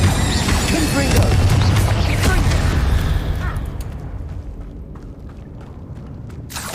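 A Confringo spell blast in Hogwarts Legacy on PlayStation 5, a loud booming explosion with a dense rumbling body that swells at the start, then slowly decays into a fading roar over several seconds, ending on a brief sharp pop.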